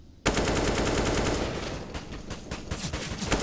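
Rapid automatic gunfire in Counter-Strike, shooting through a wall during a professional match: after a moment of quiet, a loud burst begins and continues as a dense, rattling stream of shots with a few sharper separate cracks near the end.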